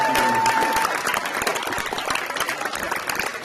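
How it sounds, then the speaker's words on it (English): Dense applause from a crowd at a high school signing day ceremony, steady and loud throughout, with many overlapping claps and a faint voice briefly audible near the start. "One more round of applause."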